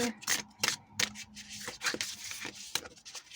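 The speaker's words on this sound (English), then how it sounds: "I'll shuffle as well because we didn't even get to shuffle" Tarot cards being shuffled by hand during a reading, giving a run of quick papery riffles and taps at close range, irregular and uneven in rhythm.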